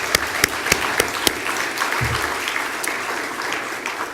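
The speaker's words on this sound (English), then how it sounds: "Let's give these guys a round of applause." Audience applause for event sponsors fills the hall, a steady dense clapping with a few sharp claps standing out near the start, loud and sustained throughout.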